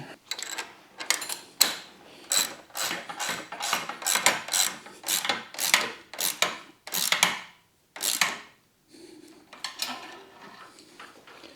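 Mechanical ratcheting and metallic rubbing from 14mm sockets on extensions tightening crash cage bolts on a Kawasaki Ninja ZX-4R, in a run of close, bursty strokes with short pauses, no talking.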